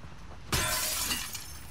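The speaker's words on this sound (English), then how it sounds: "I probably gotta break this window." Glass window shattering in The Last of Us Part II, a sudden loud crash at once followed by a bright spray of tinkling shards that rings out and fades over about a second, with no talking.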